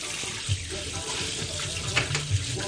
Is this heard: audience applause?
no